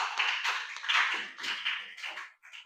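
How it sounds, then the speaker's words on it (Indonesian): A classroom of students claps together in a short, soft burst of scattered hand claps that fades out after a couple of seconds. "tepuk tangan dulu dong"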